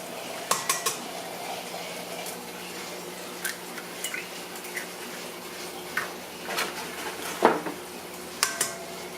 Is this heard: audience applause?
no